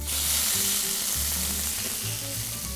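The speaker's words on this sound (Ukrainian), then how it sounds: "Розігріваємо сковорідку та на оливковій олії обсмажуємо креветки." Steady loud sizzling and crackling of tiger shrimp frying in hot olive oil in a pan, close up, with no talking.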